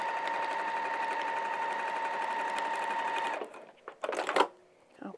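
A sewing machine stitches a vinyl project bag in a fast, even mechanical whir for about three seconds, then stops, followed by a few brief handling clatters and rustles nearby.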